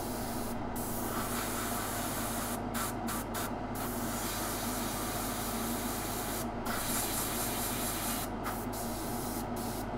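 An airbrush sprays thinned paint onto a Darth Vader bust in a continuous close hiss, broken by several short stops and restarts as the trigger is released.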